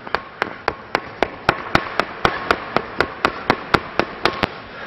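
A medicine ball bounces repeatedly against a hard surface during a shoulder strength drill, about a dozen sharp, evenly spaced thuds in a quick steady rhythm, close and clear with no talking.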